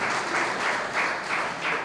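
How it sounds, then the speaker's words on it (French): Gala audience at a school association event clapping loudly together, a thick, sustained wash of applause with slight swells, heard close and without any voices over it. "Applaudissez-vous pour que l'école revienne."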